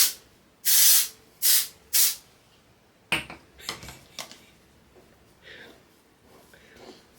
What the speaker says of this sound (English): And so I can spray this in.